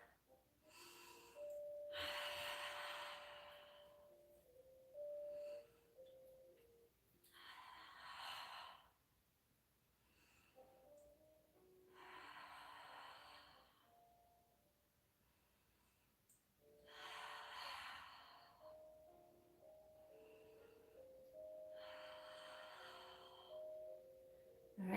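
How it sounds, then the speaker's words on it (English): Slow, deep breaths during a calming yoga class, long airy inhales and exhales in a steady cycle, soft and close with quiet tonal background music between them. "so 5 breaths"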